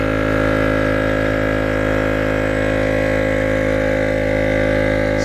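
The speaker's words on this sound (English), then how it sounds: "We're going to turn the pump off and then back on." An EP AUTO portable tire air pump runs steadily while inflating a car tire, giving a loud, continuous motorized drone with a strong low hum and even buzzing overtones, unbroken and without talk.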